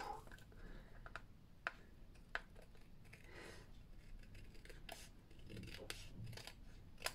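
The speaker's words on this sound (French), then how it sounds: "je vais les enlever au ciseau" Scissors snip a paper stencil in a quiet room, with a few sharp cuts and soft rasping rubs.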